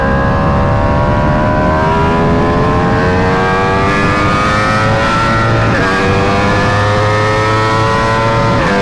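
An Aprilia RSV4 superbike, fitted with forged wheels, accelerates hard along a canyon road, its engine note climbing through rising gears with a brief dip at a shift, loud and close throughout with no talk.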